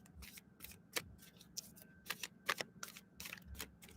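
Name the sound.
shuffling tarot cards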